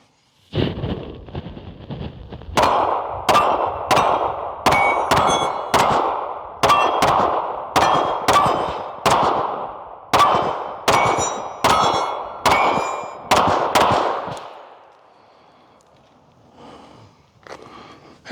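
About sixteen pistol shots ring off steel targets at 10 to 15 yards, each a sharp crack followed by a bright metallic clang. They come in a steady, evenly spaced string and are followed by a faint, quiet tail.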